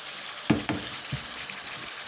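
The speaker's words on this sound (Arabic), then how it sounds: "وهنا غنحركو مزيان اللحم باش تدخل التوابل اللي درنا مزيان" Meat being stirred with spices in a pot for a traditional Marrakech-style beef and eggplant dish: steady close sizzling and frying hiss with a couple of soft scraping knocks from the stirring.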